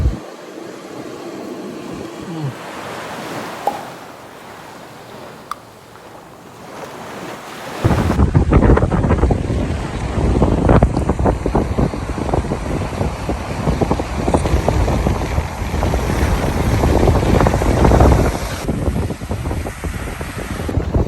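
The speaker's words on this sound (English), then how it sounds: "It's a wee bit windy" Strong seaside wind at Largs batters the microphone, starting as quieter gusts and then building into a loud, continuous roar of buffeting for the rest of the clip.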